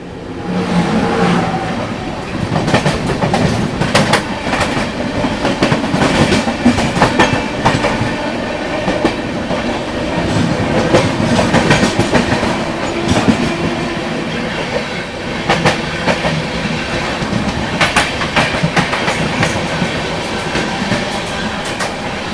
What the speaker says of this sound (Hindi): सत्याग्रह एक्सप्रेस प्लेटफॉर्म क्रमांक 1 पर आ रही है। ये सामने आ रही है आनंद विहार टर्मिनल रक्सौल सत्याग्रह एक्सप्रेस।